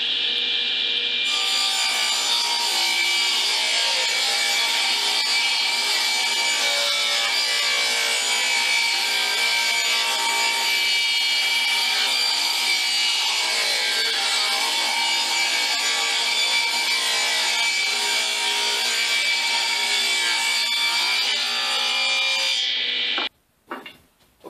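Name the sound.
table saw cutting wood to size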